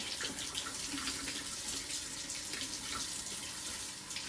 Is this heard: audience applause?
no